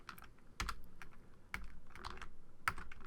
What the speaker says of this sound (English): So space bar and the Control